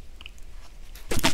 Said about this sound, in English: Let's try this popcorn chicken sandwich.